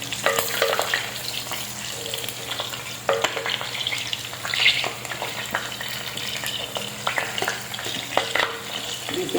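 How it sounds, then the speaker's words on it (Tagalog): Garlic and onion sauté in a hot pan with a loud, continuous sizzle, broken by scraping and clattering strokes of a spoon stirring them up close; no voices. "gigisa na natin ang bawang sibuyas"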